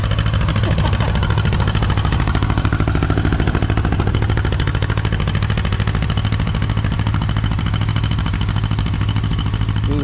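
A Farmall tractor engine with two cylinders skipping runs at a plow day, a loud, close, continuous mechanical drone with a rough, uneven clatter lasting throughout.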